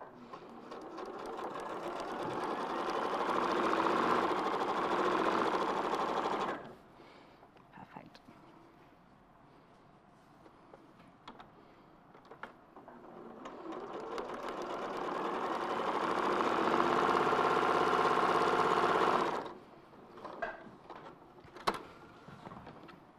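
Sewing machine stitching quilt leg strips, two long steady runs of motor whir close up with a quiet pause between, light handling clicks after; people talk in between.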